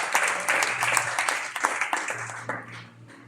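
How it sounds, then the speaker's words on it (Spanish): Church congregation claps together during a service, a moderately loud burst of hand claps with distinct individual strikes that gradually thins out, with a low hum beneath. "¿Quién le da un aplauso a Dios por los ministros y aquellas personas que sirven en esta casa?"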